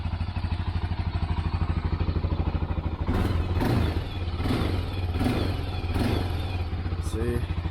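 A stock-exhaust Honda 400EX sport ATV engine idles close by just after an electric start, with a steady, fast, quiet putter and occasional clattery bursts as the throttle blips slightly.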